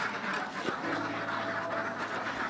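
Farmed ducks quack in a rural village pen, a dense overlapping chorus of calls at moderate distance over a steady outdoor background.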